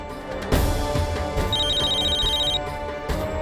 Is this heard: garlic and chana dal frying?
no